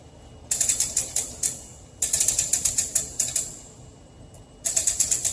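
Three quick bursts of rapid ratchet clicks, each several loud pawl snaps in a row with short pauses between, from a ratchet cranked to load a CP44 SuperShafty Capra axle housing in a strength test.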